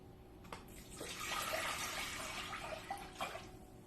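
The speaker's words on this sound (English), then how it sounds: "I fill it up with water" Water runs into a jar for ginger tea, a soft, steady pour of a few seconds with small splashy bursts at the start and end, fairly faint and alone.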